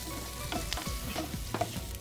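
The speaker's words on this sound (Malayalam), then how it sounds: "സവാളിൻ്റെ മുന്നേ നമുക്കതിൽ ടൊമാറ്റോ ചേർത്ത് കൊടുക്കാം, ആ ഒരു പുളി നന്നായിട്ടൊന്ന് ഗ്രേവിയിൽ പിടിക്കാൻ വേണ്ടിയിട്ടാണ്." Tomato stirred into a sizzling onion-free gravy base in a pan, a steady close fry with scraping stirs and soft clacks of a spoon recurring every half second or so, no voices.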